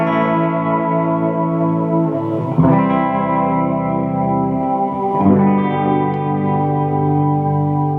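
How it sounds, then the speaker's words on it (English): An electric guitar is played through a Hall of Fame reverb pedal into a Fender Blues Deluxe reissue amp: sustained strummed chords with a long, airy wash of reverb, loud and alone. "I've got a Hall of Fame reverb"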